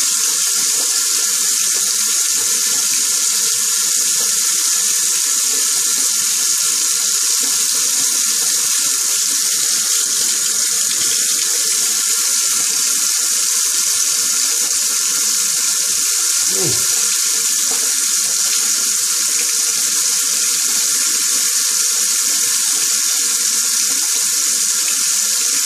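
Steady running water from a tap into a sink while a razor blade is rinsed during a shave, a continuous close hiss with one brief knock partway through.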